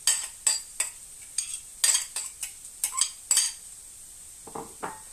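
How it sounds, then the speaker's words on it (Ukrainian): Meat and grated cheese filling for stuffed peppers stirred in a bowl, a spoon clinking and scraping against the dish in a string of about a dozen uneven, close knocks with no talking. "І все це перемішуємо."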